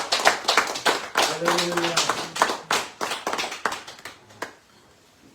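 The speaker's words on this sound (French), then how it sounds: "Comment on ne peut pas applaudir ce belle parole?" A church congregation breaks into rhythmic applause, a run of sharp hand claps that gradually thins and fades out, with a voice calling out briefly over it.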